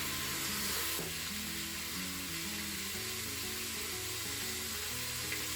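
Mushrooms frying in a pot, a steady dense sizzle running throughout with the soft scrape of stirring beneath it, close and continuous, no voices.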